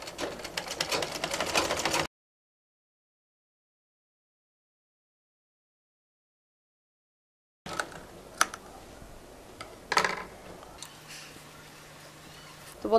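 A sewing machine stitches the side seam of a kameez in a fast, rhythmic burst lasting about two seconds, then falls silent; scattered clicks and handling noises follow under a voice talking.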